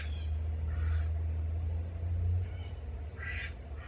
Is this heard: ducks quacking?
yes